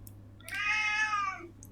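A cat gives one clear, fairly close meow lasting under a second, standing alone against a faint steady hum.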